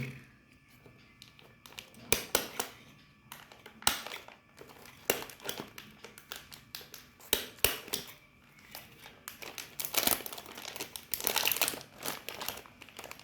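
Protective plastic covers rustle and crinkle in repeated bursts as crystal stones are packed for shipping to customers, with a quiet voice speaking in the background at times.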